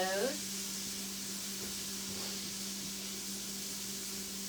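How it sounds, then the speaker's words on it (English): Onions sauteing in a pan on the stove give off a steady, continuous sizzle with a faint hum underneath, holding at an even level throughout. "I've got my onions here. And I'm sauteing those."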